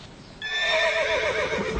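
The racehorse Shergar lets out a loud, close whinny, a long wavering neigh that starts after a brief quiet moment and carries on to the end with a faint thump beneath it.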